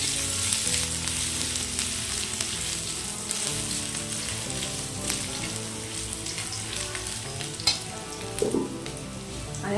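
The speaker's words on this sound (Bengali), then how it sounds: "আর এখন দিয়ে দেবো একটু রসুন কুচি" Crushed, chopped garlic fries in a pan of hot oil with spices, giving a steady close sizzle with scattered pops and occasional stirring clatter throughout.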